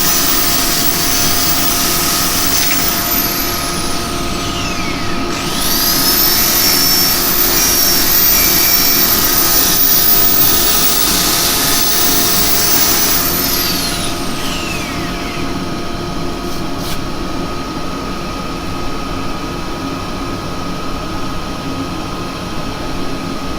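A steady motor hum with a broad, continuous rushing hiss, and a higher whine rising and falling midway through, as a skull-shaped wooden bowl is sanded on a running wood lathe.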